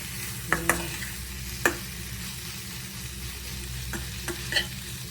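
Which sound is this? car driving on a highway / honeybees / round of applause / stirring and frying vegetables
stirring and frying vegetables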